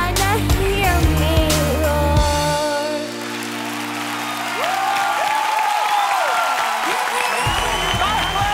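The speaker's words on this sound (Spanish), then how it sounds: "¡Por favor, más fuerte el aplauso!" Audience on a Spanish-language singing show applauds and cheers as a performance ends; clapping and whoops swell loudly while voices call out over the crowd.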